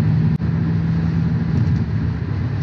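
BMW E38 with mufflers deleted cruising at speed, a steady loud low exhaust drone and engine rumble heard from inside the car, with one brief knock near the start.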